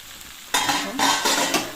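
A mixed vegetable curry with chopped coriander stirred in a pan, a few scraping strokes with a soft sizzle starting abruptly after a quiet moment, close and without talk.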